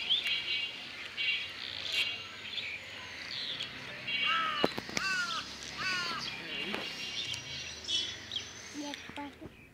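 A crow caws from a tree, giving a handful of harsh, close caws in the middle of the stretch, while smaller birds twitter steadily in the background.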